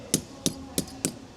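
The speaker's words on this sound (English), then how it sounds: "I'll get a hammer." Four sharp hammer strikes at an even pace while fitting a water trough on a sheep farm, crisp close metallic knocks with quiet pauses between.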